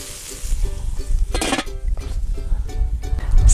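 Honey-glazed lemongrass chicken sizzling as it cooks, a steady crackle and hiss close by, with a brief louder burst of frying midway.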